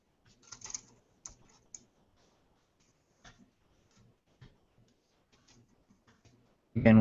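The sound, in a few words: typing on a computer keyboard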